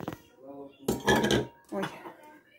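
A utensil scrapes and clatters against the inner pot of a multicooker while pilaf is stirred, three loud scraping bursts separated by short pauses.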